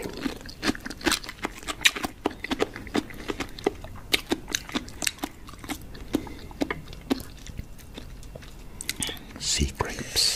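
Close, wet crunching and chewing of sea grapes, with irregular sharp crackles as the crisp seaweed is bitten and chewed, set against quiet mouth noises.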